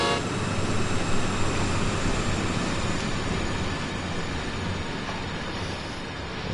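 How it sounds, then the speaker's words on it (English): A long freight train rumbles past on Sand Patch Grade in Train Sim World 2, a steady loud roar of rolling wagons and wheel noise that fades slightly over several seconds, with no talk. "Not going to wait for the whole train to go by."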